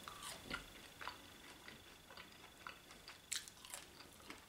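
Crunchy deep fried potatoes are chewed up close, with quiet, irregular bites and crunches scattered across a few seconds.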